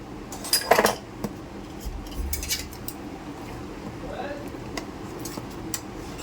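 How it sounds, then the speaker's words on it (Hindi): Utensils clink and scrape against a dish while pieces of kharvas, a set milk dessert, are cut and lifted out, with a few sharp metallic taps early on and softer scraping after. "अब इसको हम देखिए इस तरीके से पीस निकाल लेंगे"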